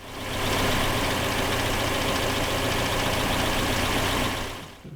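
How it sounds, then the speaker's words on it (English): An old steam car engine runs after being cranked up, giving a loud, dense, steady roar and hiss that holds evenly for several seconds, then cuts off abruptly near the end. "Steam engine."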